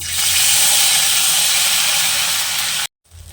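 Loud, steady hiss of ground spice paste frying in hot oil with cumin, running continuously, then cutting off abruptly near the end before a softer hiss returns.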